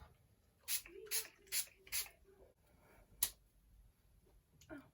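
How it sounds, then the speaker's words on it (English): Four quick spritzes of makeup priming spray onto a face in a steady rhythm, close and crisp, followed by one more short spritz after a pause, with faint background noise. "I'm just going to spritz this all over my face just to prep my face for the makeup"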